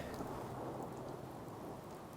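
Rain with thunder in Fallout 4, a dense steady downpour with a low rumbling undertone, fairly quiet and continuous throughout with no voices.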